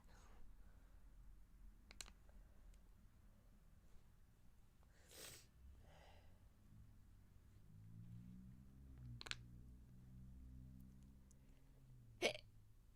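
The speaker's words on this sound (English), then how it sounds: "That was a hiccup." A sharp, sudden hiccup sounds near the end, preceded by a few faint clicks and gulps in an otherwise quiet room.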